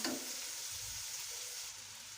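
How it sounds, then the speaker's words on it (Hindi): Spices for chicken palak fry in a pan, a steady, quiet hiss and sizzle that stays even throughout, with faint stirring and no voices. "इसको हम 1 से 2 मिनट अच्छी तरह भून लेंगे।"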